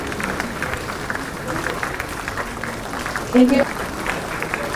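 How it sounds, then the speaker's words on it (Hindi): Audience applause at a government job ceremony, moderate clapping running under a woman announcing names over a loudspeaker. "तालियों में कमी ना हो।"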